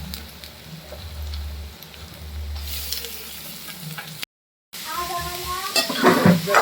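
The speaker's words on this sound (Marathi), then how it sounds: "कांदा घातल्याचा एकजीव करायचा" Onions being stirred in a pan while they fry, a steady sizzling scrape that rises into brighter crackling near the end, broken by a brief silent gap.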